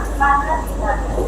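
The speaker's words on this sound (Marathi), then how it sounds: "ट्रेन आलेली आहे आता।" Local train pulling into a station, a low rumble with brief squealing tones under people talking nearby.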